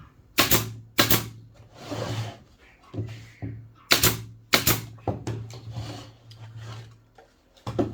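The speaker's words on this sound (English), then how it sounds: "Hard to get the nail gun in there, so you can always flip it over, get to that other side." A nail gun fires sharp, loud cracks into wooden mountain-shaped shelves, several shots spaced a few seconds apart, with rubbing and handling noises in between.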